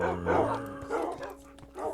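Minecraft wolves barking in short bursts, several yaps in a row over game background sounds, fairly close and moderately loud.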